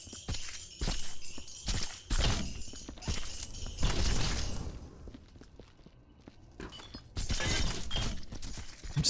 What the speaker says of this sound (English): I'm just hearing shit rattling around those boxes, just things clanging, glass shattering